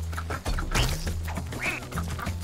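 Cartoonish duck quacks from the Rayman Legends video game, a few short nasal honks standing out over busy game music and sound effects.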